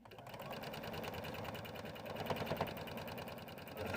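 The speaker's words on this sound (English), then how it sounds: "go ahead and sew our back piece to the top" Sewing machine running continuously with a fast, even mechanical stitching rhythm while joining a pillow's back piece to its top, close and steady, no speech.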